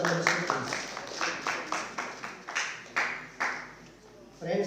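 Applause for a government minister at a Northeast India journalists' awards ceremony, a run of clapping bursts at moderate distance with a voice returning at the end.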